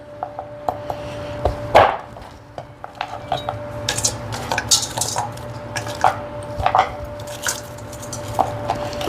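Frozen food being cut in a home kitchen while cooking an Easter dinner: irregular sharp knocks and clicks of a knife against a board and dishes, fairly close and moderately quiet, with no talking.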